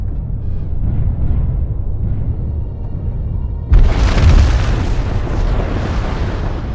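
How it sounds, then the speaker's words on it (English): LRM missile fire from a battle mech in the video game Mechwarrior Living Legends bursts into a loud, sudden explosive boom. It follows a steady low rumble and then rolls on as a sustained roar, with no talk over it. "Get some LRM fire off here."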